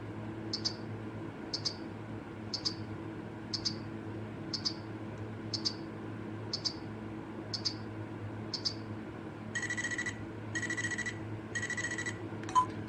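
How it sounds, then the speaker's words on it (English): A Blue's Clues LeapFrog learning watch counting down its timer with sharp, evenly spaced electronic ticks about once a second, then breaking into a quicker repeating beeping alarm near the end, close and alone. "So that is a countdown timer."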